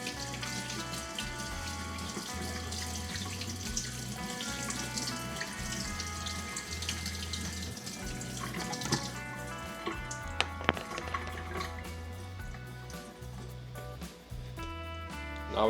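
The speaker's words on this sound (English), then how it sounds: "I'm gonna run some cold water over it" Cold tap water runs over ramen noodles for chicken chow mein, a continuous splashing stream with scattered drips and clinks, heard under a steady bed of background music.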